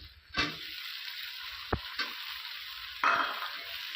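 Raw tomatoes dropped into a pan of frying country chicken with cinnamon, cardamom and bay leaf, giving a steady close sizzle with sharp bursts of louder crackle as the pieces hit the hot oil.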